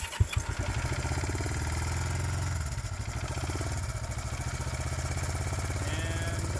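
A small shed-kept engine being started after compression, spark plug and fuel checks: a few sharp cranking pulls, then a steady close, loud idling chug with a slightly uneven pulse throughout.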